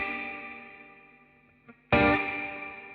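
A sustained electric guitar chord rings out and fades with a washy echo tail, then a second chord strikes loudly and trails off in reverberation.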